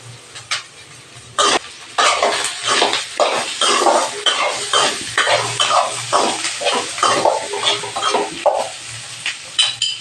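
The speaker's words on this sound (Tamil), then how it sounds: "சின்ன பூண்டாக இருக்கிறதுனாலங்க அதே போல் போட்டு வதக்கிக்கலாம்." Small garlic cloves being sautéed in a pan for sardine fish curry, a close frying sizzle with repeated rhythmic stirring scrapes and clinks of a spatula against the pan.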